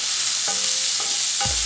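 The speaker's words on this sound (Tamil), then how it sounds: "வெங்காயம் நல்லா வதங்கிருச்சு" Chopped onion and cumin fry in a pan with a steady, close sizzle, broken by three distinct stirring scrapes.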